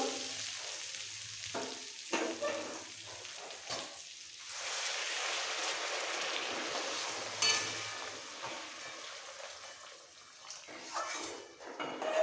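Hot water poured into a pan of frying potato and papaya with spices for a fish curry, a soft rushing hiss and bubbling sizzle lasting several seconds, with a few stirring scrapes around it, fairly quiet.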